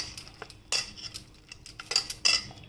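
Gram flour batter for a puffed-rice uttapam mixed with a spoon in a bowl, soft irregular scraping and clinking strokes against the vessel, fairly quiet with no voices.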